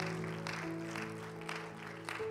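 A church congregation at a Spanish-language worship service claps together, a dense steady round of applause with a sustained organ or keyboard tone underneath.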